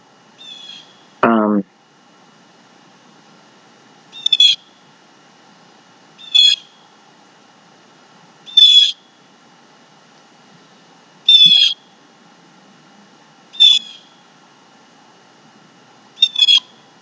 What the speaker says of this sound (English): I don't know what it is about certain birds, but like I kind of get lost once I hear them